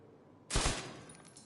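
A short, loud burst of rapid gunfire from the video game The Division 2 erupts after a quiet half second, then trails off into a fading ringing tail.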